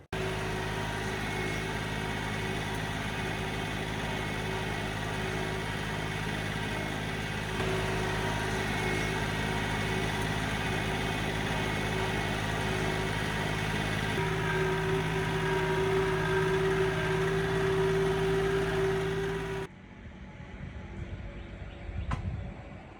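Farm tractors drive over a spring clover plot to track in freshly spread seed, a steady, loud engine drone holding for about twenty seconds before cutting off to quieter outdoor ambience.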